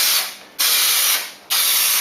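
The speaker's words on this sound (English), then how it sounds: "So I'm going to give this a bit of a spray." Spray adhesive is sprayed onto a car roof lining board for an Aston Martin DB7. Two loud, close, steady hissing bursts are heard, each cut by a sudden short break.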